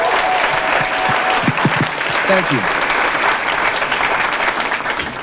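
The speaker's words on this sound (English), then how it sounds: "So let's give them a round of applause." At the FutureLAND conference, a loud, close crowd applauds in a thick, continuous wash of clapping, while a voice briefly speaks over it.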